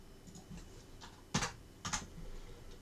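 Keys are pressed on a computer keyboard to enter a CAM post-processing program number: a short run of light keystrokes, two of them clearly louder, close and alone without speech.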